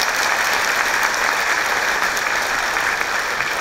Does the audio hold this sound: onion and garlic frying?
no